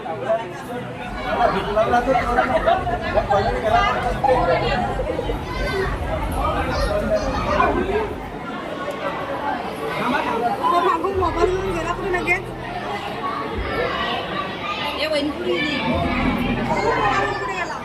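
Crowd gathered at a village haldi ceremony in Khargaon, a dense babble of many voices with children's shouts mixed in, close and continuous throughout.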